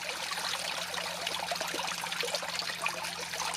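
Water from a hose jet streams steadily into a fish tub in a garden, a constant splashing, trickling rush heard up close with no talk.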